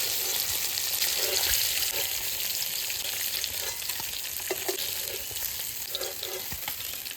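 Hilsa fish frying in oil, a continuous loud sizzle with occasional crackles and spatters, close and unbroken by speech.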